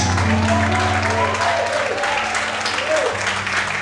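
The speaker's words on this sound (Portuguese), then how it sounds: "quantos podem aplaudir e exaltar a Ele no nome de Deus?" A church congregation applauds during a worship service, a full, continuous wash of clapping with a held musical tone and gliding voices sounding beneath it.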